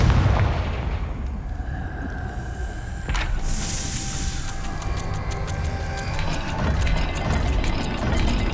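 A Confringo fire spell explodes in the video game Hogwarts Legacy, a sharp blast amid steady rumbling game ambience and crackling effects, with no talking.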